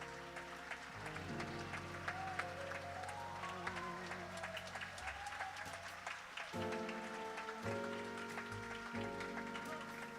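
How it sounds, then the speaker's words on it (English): Audience applause at a regional Scholastic Art & Writing awards ceremony, sustained and moderately loud beneath background music with steady low tones. No voices come through. "Let's give them a round of applause."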